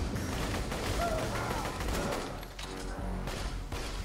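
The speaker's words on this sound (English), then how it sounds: "Somebody's shooting. Somebody shooting me." Gunfire bursts from a Borderlands 2 firefight, a dense rapid fusillade of shots running steadily through the whole moment at close range.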